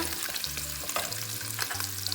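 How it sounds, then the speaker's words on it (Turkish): Meat for a green bean stew sizzles loudly in a hot pan while a utensil scrapes and stirs it in repeated strokes as it browns; no talking. "etler kızarıncaya kadar karıştırmaya devam edeceğim"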